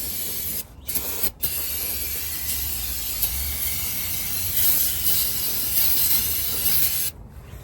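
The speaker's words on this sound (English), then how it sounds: "spray everything back down and get all that oil off that you can" Cleaner sprays onto the rear differential to wash off oil: a long, steady, loud aerosol hiss that cuts out for brief moments between bursts, close up.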